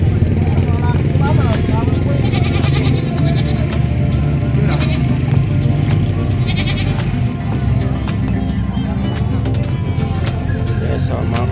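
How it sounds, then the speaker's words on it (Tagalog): Goats bleating among other livestock at San Carlos City Livestock Market, repeated calls over a steady crowd and engine hum, with people talking nearby. "Okay, so mga kambing ni sir,"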